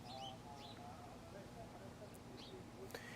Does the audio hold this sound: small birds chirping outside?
yes